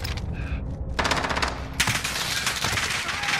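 Rapid machine gun fire crackles in Call of Duty Warzone, a short burst followed by a longer sustained stream of close, loud shots.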